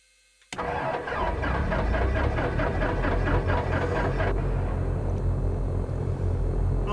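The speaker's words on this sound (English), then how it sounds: "We're going to give it a little bit of throttle and we're going to see if we can get these engines started." Aircraft engines in the X-Plane flight simulator start after a short silence, then settle into a loud, steady rumble with a rhythmic pulsing whine for several seconds before evening out. No talk.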